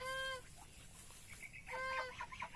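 Brooding goose and chickens on a rural farm: a few close clucking and honking calls in two bursts with a pause between.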